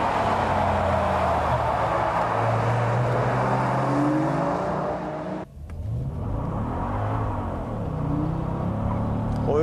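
A BMW M3 CSL, Honda S2000, Lotus Elise Sport, Mazda RX8 Type S and Mercedes SL55 AMG, all rear-wheel drive, charge toward the first corner on a circuit with loud, overlapping engine roars, then a sharp cut to rising and falling engine notes.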